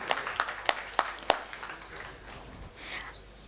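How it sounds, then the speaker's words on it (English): Conference audience at a microfinance and financial inclusion event claps in steady, distinct beats that thin out and fade into murmuring room noise. "Will you all give a big round of applause?"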